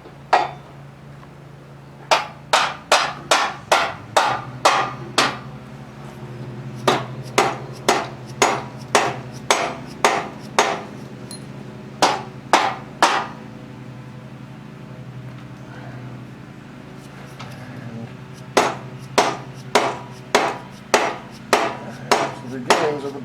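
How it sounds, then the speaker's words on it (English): A dead blow hammer pounds on rear suspension parts of a 1970 Oldsmobile Cutlass Supreme during bump stop and bushing work, landing close, loud strikes in quick rhythmic bursts of several blows separated by short pauses. "Let's ran and grab the dead blow hammer because we're going to need it."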